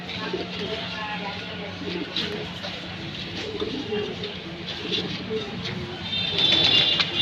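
Racing pigeons coo steadily inside a flying loft, soft continuous cooing close by with a busy background hum and no clear talk.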